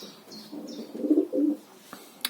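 Pigeons coo softly in low, throaty rolls inside a pigeon loft, a couple of drawn-out calls with faint chirps and rustling around them.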